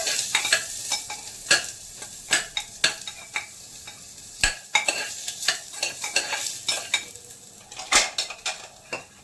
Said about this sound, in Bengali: পেঁয়াজ দিয়ে দিচ্ছি ফোড়নে এই যে ফোড়নে বলতে একটু পেঁয়াজ জাস্ট সতে করে নিয়ে